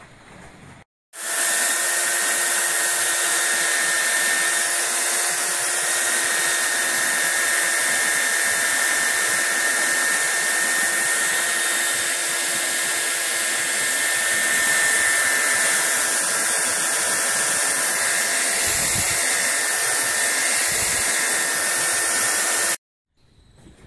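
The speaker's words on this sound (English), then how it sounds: "Then we use the belt sander to get rid of the rough surface." A belt sander runs over two clamped wooden planks for a shipping container kitchen worktop, a loud, steady, close whine with a continuous abrasive rasp that starts abruptly and cuts off after about twenty seconds, with no talking.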